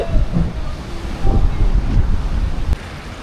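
Sea waves and gusting wind under the Penang bridge, a loud continuous rumble with wind buffeting the microphone and surf washing in swells, no talking.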